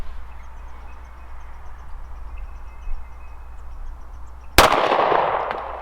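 A Smith & Wesson CSX pistol fires a single shot at the range: one sharp, loud, close report near the end, after a low steady background hum, with a short ringing decay.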